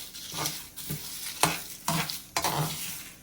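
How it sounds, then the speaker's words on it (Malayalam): Whole garam masala spices dry-roasting on low heat: stirring and scraping in a hot pan with a soft sizzle, a few sharp clinks of a spoon against metal, no voices. "ഇത് ചെറിയ തീയിൽ നന്നായിട്ട് ഒന്ന് റോസ്റ്റ് ചെയ്തിട്ട്"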